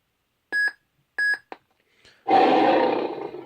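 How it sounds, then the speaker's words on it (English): Two short electronic beeps from a lightsaber's auxiliary button, then a click, followed by a loud humming whoosh that surges up and slowly fades. "you press and hold down the black auxiliary button until it beeps"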